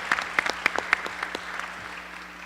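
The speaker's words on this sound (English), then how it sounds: "give them an applause" Audience clapping at a 2014 welcome address, a burst of applause from a crowd that peaks early and then thins to scattered, softer claps over a couple of seconds.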